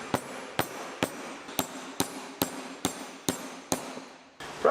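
A hammer drives bushings into truck shock absorbers with about ten sharp metallic blows in an even rhythm, each ringing briefly, followed by a short scrape of handling at the end.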